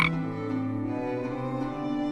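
A frog in the video game Storyteller lets out one sustained, buzzy croak that is close and clear, fading slightly over about two seconds.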